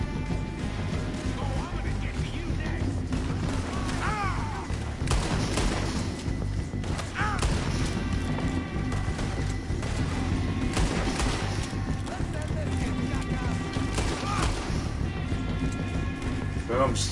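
Gunfire in Red Dead Redemption 2 during a frontier shootout, with repeated shots and crashes scattered over a steady background of game sound and music while someone talks over it.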